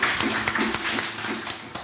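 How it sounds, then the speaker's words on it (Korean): A church congregation at a university worship service claps together in welcome, a dense steady patter of many hands filling the room for the full stretch at moderate loudness. "Round of applause."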